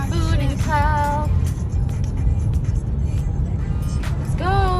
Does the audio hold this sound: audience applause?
no